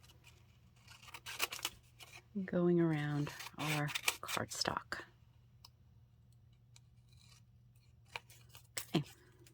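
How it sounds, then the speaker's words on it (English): Scissors trim excess paper around cardstock on a Christmas craft project of a vintage altered bottle snowman, giving soft close snips between bursts of a woman's speech. "I just come back in with my scissors and I'm going to just trim off"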